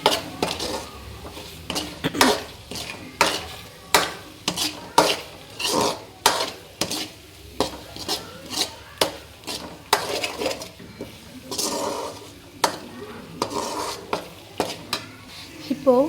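A spoon scrapes and stirs spices in a metal pan for fish curry, in a steady rhythm of repeated strokes, with a soft sizzle underneath.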